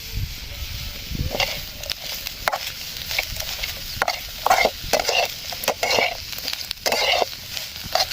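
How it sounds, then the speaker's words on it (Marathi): Onion heats in a pan for a crab dish, a close sizzle broken by irregular scraping and clattering bursts of stirring. "कांदा गरम करून घेऊ राहिलो आहे आता, म्हणजे जेणेकरून त्याला कलर चांगला येईल."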